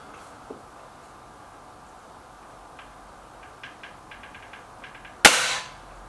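A single sharp, loud crack from a Hatsan 900X break-barrel air rifle is heard near the end. Faint clicks and ticks come before it in an otherwise quiet outdoor setting, with no talking.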